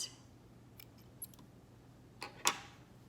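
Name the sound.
cutting yarn while crocheting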